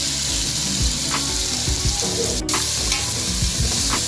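Steady loud sizzling of onions, crushed garlic, ginger and green chilies frying in hot oil for chicken biryani, with occasional scraping stirs, no voices.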